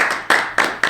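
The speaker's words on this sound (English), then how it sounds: "Can I get a round of applause from the audience?" A single person clapping slowly, four distinct close hand claps about a quarter second apart, crisp and alone.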